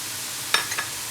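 Spices are stirred into keema frying in a karahi. A soft sizzle runs underneath a few quick scraping strokes of the spoon against the pan.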